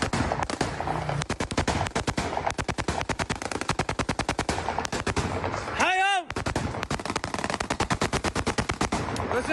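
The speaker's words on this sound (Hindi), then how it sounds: "देखिए इन गोलियों की तड़तड़ाहट को आप सुनिए।" Sustained bursts of automatic gunfire in Damascus during the Syrian conflict, rapid loud cracks rattling almost continuously, broken briefly midway by a descending whistle-like tone.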